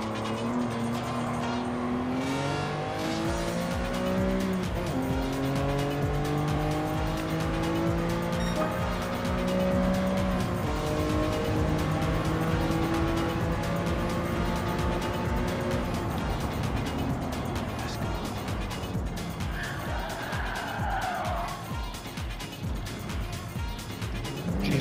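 A 1988 Lamborghini Countach 25th Anniversary in Gran Turismo races hard: its engine climbs through repeated rising revs and gear shifts, with tire squeal and other cars passing, loud and continuous with no talk.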